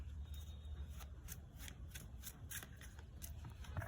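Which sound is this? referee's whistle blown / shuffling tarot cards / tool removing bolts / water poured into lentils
shuffling tarot cards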